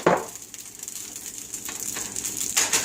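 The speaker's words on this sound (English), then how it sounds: "Now we throw in the shrimp." Cooked shrimp tossed into a hot pan of sausage with the stove switched off give a soft, steady sizzle and hiss that carries on for about three seconds after a brief louder burst at the start.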